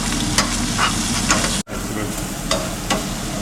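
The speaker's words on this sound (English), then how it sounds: "Half cook the bacon there." Bacon frying in a lightly oiled, slightly dirty pan in a beef and red wine one-pot dish, giving a steady, loud, close sizzle with a few spatula scrapes and one brief dropout.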